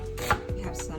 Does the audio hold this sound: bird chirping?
no